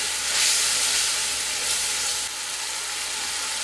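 A spice paste with a splash of water is sautéed in a pan for shahi paneer, giving a close, continuous sizzling hiss that swells early and then settles to a steadier, slightly quieter level.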